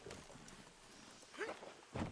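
Horse hooves clip-clop in the Red Dead Redemption 2 video game, a few soft, close footfalls at a walking pace, faint and alone without talk.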